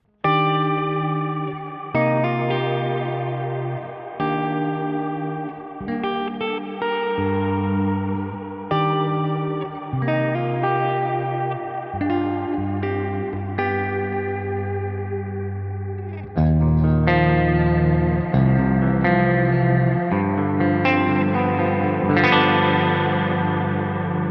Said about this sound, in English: If you chuck on something like the Plex delay on this one with the Plex reverb, you get a beautiful ambient clean sound